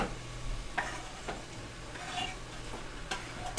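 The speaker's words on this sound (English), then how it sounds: "can you hear the tomatoes sizzle in the pot?" Soft, continuous sizzling from tomatoes cooking in a pot, with occasional light clinks and a low steady hum underneath.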